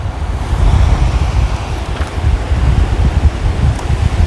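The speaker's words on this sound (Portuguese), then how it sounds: "Deixei o ruído externo, que não é ruído, é o ambiente aqui do mar, para vocês escutarem as ondas do mar" Sea waves surging and breaking on the shore, a continuous broad rumbling wash with swells rising and falling, steady and fairly loud, with some wind buffeting the microphone.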